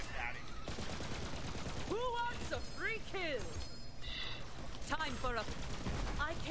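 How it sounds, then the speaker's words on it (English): Rockets fire in a video game, a burst of rapid booming blasts and explosions with sweeping, chirping effects. An excited voice talks over the action. "shooting his rockets"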